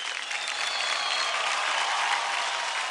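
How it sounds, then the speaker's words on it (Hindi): A studio audience at a televised dance competition claps loudly for a pair of dancers, a dense, even roar of applause that holds steady from start to finish. "तो जोरदार तालियां हो जाए"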